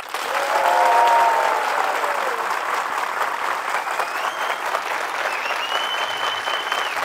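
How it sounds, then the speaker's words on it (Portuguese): A crowd at a sales meeting applauding steadily, dense clapping that swells early then holds at a constant level, with faint whistles over the top. "Afinal de contas, o Dev é coisa de cinema e merece aplausos."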